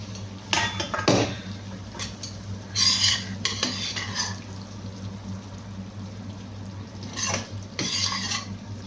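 Oil and mustard paste being stirred into rice for pulihora, a spoon scraping and clinking against a pot in scattered bursts, close and moderately loud, with quiet gaps between strokes.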